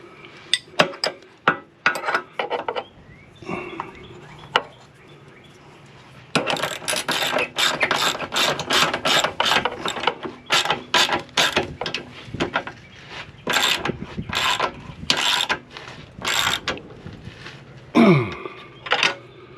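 A Craftsman ratchet wrench works bolts while a Ford Bronco Badlands rock slider is installed, giving close, bright bursts of rapid clicking in irregular runs, separated by short pauses and small metallic knocks.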